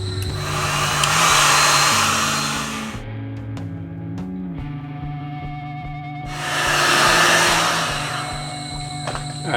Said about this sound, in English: get your heat gun and heat up the fender evenly for about 2 to 5 minutes on a pretty high heat